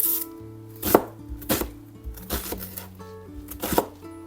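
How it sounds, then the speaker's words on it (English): A knife chops through onion on a cutting board for soup, giving about six sharp, uneven thuds over four seconds, close and dry, with no speech. "I'm going to chop the ingredients for my soup."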